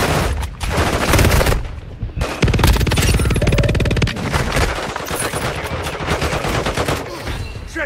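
Rapid automatic gunfire in the mobile shooter Warzone Mobile, dense sustained bursts with sharp cracks, loud and close, briefly broken by short gaps before resuming.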